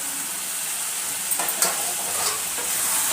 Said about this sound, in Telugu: వేసిన తర్వాత మంచిగా గరిటెతోటి కలపాలి